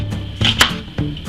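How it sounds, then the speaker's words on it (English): A knife cuts slices into half an onion on a board, producing a few close, crisp chopping taps spaced unevenly over a second or so. "Cut some fingers in the onion, preferably."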